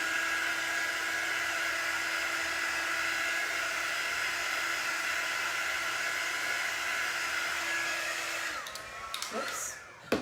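A hair dryer blows steadily and close on a craft piece, a book stack decorated for breast cancer awareness, with a constant whooshing hum that shifts and cuts out near the end.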